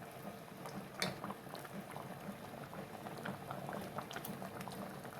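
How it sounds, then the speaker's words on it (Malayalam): Pot of banana stem and lentil curry boiling on a gas stove, soft steady bubbling and popping heard close up and quiet, with no voices. "നന്നായിട്ട് തിളച്ച് വന്നിട്ടുണ്ട്"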